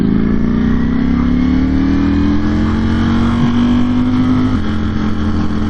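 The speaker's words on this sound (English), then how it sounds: "rev up that motorcycle engine. It's loud, boy." A 2021 Ducati Streetfighter V4S motorcycle engine runs loud and close, holding a steady droning rev that climbs slightly in pitch before settling back, with no talking over it.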